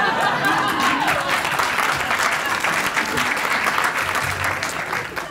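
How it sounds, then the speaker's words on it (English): Loud, sustained applause from a seated audience at a talk about justice in New York City, thick and continuous throughout with a faint chuckle mixed in, easing only slightly toward the end. "I watched the entire courtroom burst into applause, just like you did now"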